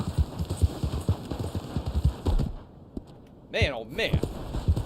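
Hooves of a horse in a video game clip-clop in a quick, steady rhythm close up, continuing under a voice.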